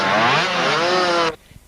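A Kawasaki enduro motorcycle, ridden by an expert-class rider in the 1991 Welsh two-day enduro, revs loudly and close by with a buzzing, rising engine note that cuts off abruptly after just over a second.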